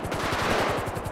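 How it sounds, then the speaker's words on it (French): Rapid automatic gunfire in a police raid video game, a dense, loud burst of fast repeated shots firing continuously without pause, close and alone with no talk. "Y'a des tirs en dessous"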